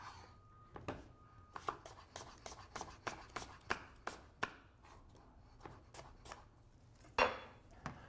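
A Fuji apple being chopped on a cutting board, a quiet series of sharp knife taps in an uneven rhythm, close to the listener, with one louder thunk near the end.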